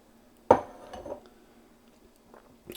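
A single hard clatter of potato cubes hitting the metal pot of a Ninja soup maker, followed by a softer rattle and a faint knock near the end.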